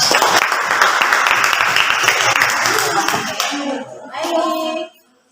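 A group of students bursts into loud, close applause for classroom competition winners, dense clapping that thins toward the end before voices briefly chatter and the sound cuts off.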